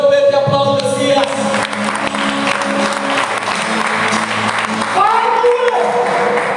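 Church congregation applauding loudly and steadily at a worship service, dense clapping mixed with crowd noise and voices, with music tones running underneath throughout.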